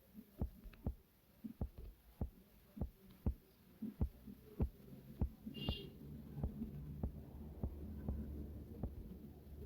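Drum set slowed down and drenched in warm, jazzy reverb in BandLab: a steady run of about twenty soft, booming kick and snare hits at an even, unhurried pace, each trailing into a low hum, with one brief bright shimmer midway.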